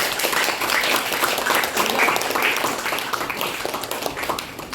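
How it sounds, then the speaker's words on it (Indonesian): Scattered applause from a modest audience at a debate event, steady clapping for a few seconds that slowly thins toward the end, moderately close. "kita berikan tepuk tangan kepada dua tim, yaitu argumen pro dan kontra"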